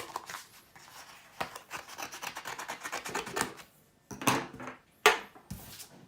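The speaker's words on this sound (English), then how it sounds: "I will just snip it down so it goes through the die cutting machine." Scissors snip a card element for die cutting: close, soft rasping and rubbing of paper, then a few crisp louder cuts toward the end.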